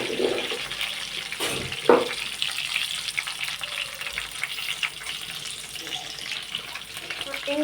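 Green chillies with garlic sizzle and crackle in a hot pan, a steady frying hiss with a stirring scrape and a brief louder clatter early on.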